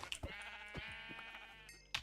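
Sheep in a Minecraft modpack, Project Ozone 3, giving a drawn-out wavering bleat, with a few short clicks and game sounds around it, fairly clear and close.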